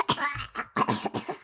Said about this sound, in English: Musa said delightfully as he began to cough again.